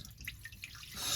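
Seawater leaking in past a boat's propeller shaft seal with the clamp removed, a quiet close trickle of drips and splashing that builds into a steadier rushing flow near the end.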